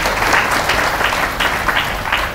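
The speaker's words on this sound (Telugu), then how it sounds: "చప్పట్లు గట్టిపడాలి." Audience applause at a spiritual discourse, a dense, loud burst of many hands clapping that rises and falls in waves throughout, with no talking.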